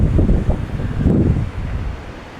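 Sea waves rolling ashore at high tide on a beach, a steady low rumbling wash with surging swells under strong wind noise buffeting the microphone.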